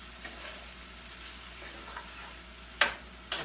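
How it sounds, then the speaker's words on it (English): A stir-fry sauce thickened with cornstarch simmers in a pan with a soft, low sizzle and faint bubbling, broken near the end by a couple of louder clinks or scrapes; no speech. "listen to that sizzle"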